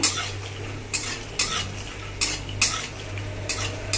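Peanuts being fried in a pan until red and crisp, with a spoon or spatula scraping and stirring in irregular knocks and clatters over a steady low sizzle, close and fairly quiet, with no talking.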